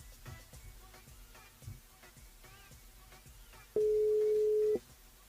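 A single electronic tone rings out steadily for about a second near the end, placed as a call to a radio listener during a live French radio show, with faint room noise before it.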